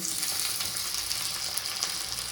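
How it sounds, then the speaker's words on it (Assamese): Chopped tomatoes hit onions already frying in a pan for a mutton curry, giving a steady, close, continuous sizzle and crackle with no voices. "কাটি থোৱা বিলাহীটো ইয়াত দি দিছোঁ।"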